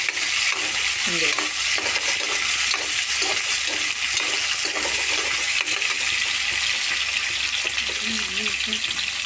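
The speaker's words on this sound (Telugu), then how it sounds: "పన్నీర్ వేసుకొని ఇట్లా ఫ్రై చేసుకోవాలి." Paneer frying in a pan for paneer rice, a steady sizzle with stirring scrapes throughout and no pauses.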